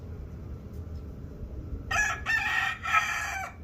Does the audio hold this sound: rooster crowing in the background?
yes